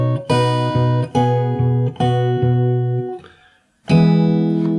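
Fingerpicked acoustic guitar plays part of a song very slowly, a few deliberate chord plucks with a pulsing bass, a brief near-silent pause, then a final chord ringing out loudly up close.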